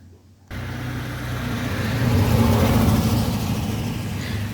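A car drives past nearby, its engine starting abruptly, swelling to a steady rumble around the midpoint, then easing slightly as it moves on.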